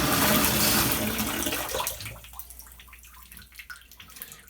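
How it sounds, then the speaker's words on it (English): A Moen Posi-Temp shower fixture with a Moen 1222 cartridge runs at full pressure in a loud rushing gush for about two seconds, then quickly fades to faint trickles and drips. "when you start it, it's full on water, full pressure"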